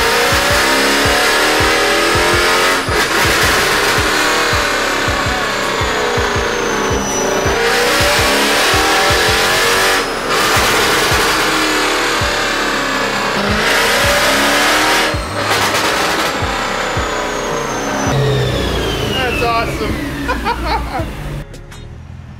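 A loud Mercedes C63 AMG engine with a pops-and-bangs tune revs repeatedly in long surges, with sharp crackling pops from the exhaust between pulls, close to the microphone.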